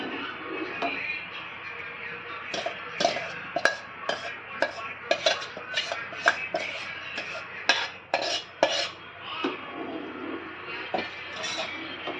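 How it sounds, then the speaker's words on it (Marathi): Sabudana papad batter being stirred in a pot on medium heat, a steady scraping rub with repeated clinks of a spoon against the metal, close and alone with no voices. "मिश्रण ॲड करता करता ढवळत राहायचं ना, त्याच्या गुठळ्या बनू शकतात."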